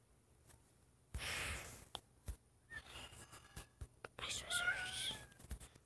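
A kitty gives a few soft, close meows and whiny vocalisations in a quiet room, with faint whispering and small rustles between the calls.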